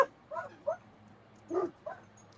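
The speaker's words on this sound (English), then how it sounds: "I have a pack of dogs," A few pet dogs give short, high whimpers and yips in scattered bursts, four or five brief cries with quiet gaps between, fairly close and over a faint low hum.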